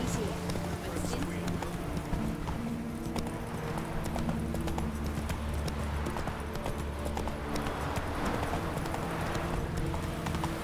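Horse galloping in The Witcher 3, with a steady rapid clip-clop of hooves over a constant wash of game ambience and music and no pauses.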